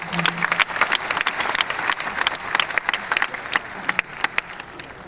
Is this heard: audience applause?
yes